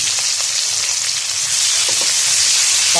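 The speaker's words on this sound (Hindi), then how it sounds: "हम प्याज को अच्छे तरीके से इसके अंदर भूनते हैं" Two chopped onions frying in hot oil for a mixed vegetable sabzi, giving a loud, steady, close sizzle and hiss throughout, with a few faint clicks of stirring.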